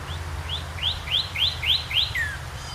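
A blue jay calls in a quick series of about eight short, rising notes, moderately near over a low rumbling background.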